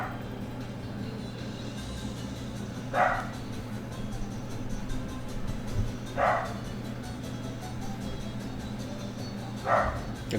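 Indoor dog barks three separate times, each a short, moderately distant bark spaced a few seconds apart over a low steady background hum.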